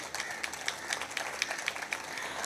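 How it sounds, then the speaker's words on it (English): Applause from an audience at a festival inauguration in Karachi, with a steady run of light, fairly distant clapping and no talk over it. "A big thank you and a big round of applause,"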